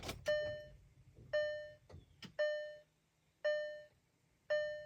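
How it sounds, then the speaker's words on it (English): A warning chime dings inside a VW Beetle, five evenly spaced electronic tones roughly a second apart, close and clear, with a few clunks and thumps between the early ones and no talk. "Can't really hear anything because of the dinging."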